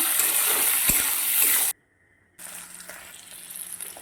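Loud, steady frying hiss that cuts out abruptly for a moment, then resumes quieter with light crackles as chopped tomatoes fry in oil.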